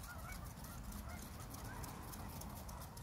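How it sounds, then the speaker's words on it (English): Geese honk repeatedly at a distance over the steady, continuous hiss of sprinklers spraying water, with no voices. "the geese and the sprinklers."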